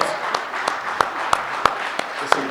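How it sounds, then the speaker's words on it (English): Applause for a team at a program of talks and performances: sparse, individual claps at an even rhythm, moderately loud and near, with a light background of room noise. "Round of applause for this incredible Ron, Walt,"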